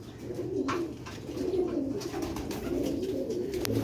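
Original Sialkoti pigeons of an old bloodline coo softly and continuously in a loft, a steady low murmur of several birds with occasional sharper flutters or chirps and no talking.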